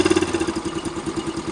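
A freshly repaired scooter engine idles slowly and steadily, its close, loud putter pulsing in an even rhythm throughout.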